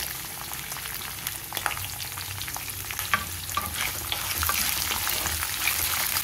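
Green chillies and ginger pieces fry in hot oil for tamarind pulihora, a steady close sizzle broken by scraping stirs that grows slightly louder toward the end.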